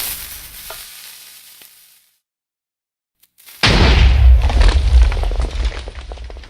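Minecraft TNT cannon firing: a short fizzing hiss and a moment of silence, then a loud, sustained roaring explosion that rumbles on to the end, with no talk.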